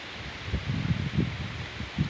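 Wind buffets the microphone while leaves of bitter gourd (ampalaya) plants rustle in uneven low gusts, a steady airy hiss underneath.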